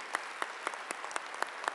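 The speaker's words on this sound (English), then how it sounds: "please join me in giving another round of applause to our favorite son, Byron Pitts" Applause at the Morgan State winter commencement ceremony, a sparse, fairly faint round of individual claps with distinct separate hand strikes, heard alone without talk.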